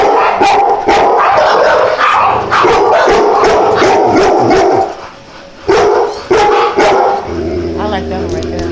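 Dogs barking outdoors in a rapid, loud, continuous series of energetic barks close by, with people talking over them throughout.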